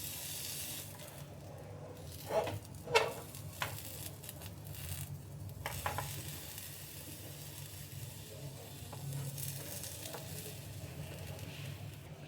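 Brinjal slices fry on a hot tava with a steady soft sizzle, broken by a few scraping clicks as they are flipped.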